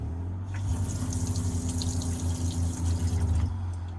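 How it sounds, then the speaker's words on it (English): Water runs steadily from a push-button tap into a vehicle sink for a few seconds, starting and stopping abruptly, with a faint pump hum underneath. "then you press the button to make water come out"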